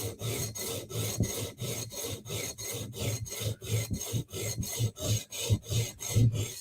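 A knife blade is drawn across a sharpening stone in a steady rhythm of roughly twenty even rasping strokes. Each stroke is close and distinct, with no talking.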